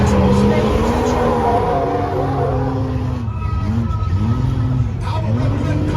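A Can-Am off-road car runs on a sand course at a sand sports show, its engine note repeatedly rising and falling in loud revving sweeps over a constant background of crowd noise.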